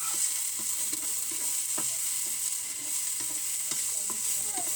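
Onions sautéing with garlic in a pan while ground pork dishes with green beans, carrots and bell pepper are being prepared: a steady sizzle under scattered stirring clicks and scrapes, close and continuous, with no talking.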